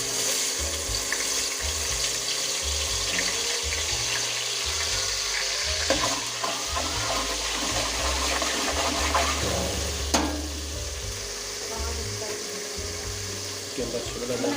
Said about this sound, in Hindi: सब्जी को थोड़ा सा सौते करेंगे।